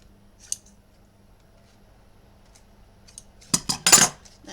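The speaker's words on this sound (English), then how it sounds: "And then just snip off a wedge." Scissors snip a wedge out of paper for a memory book, giving a single faint click first and then a few sharp, close metallic snips near the end.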